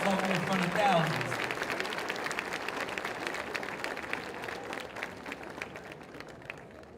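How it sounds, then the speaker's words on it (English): A graduation ceremony audience applauds sixth-grade boys at a young men's academy, the clapping strongest at the start and then thinning while a voice speaks over it. "Let's clap it up for our young brothers."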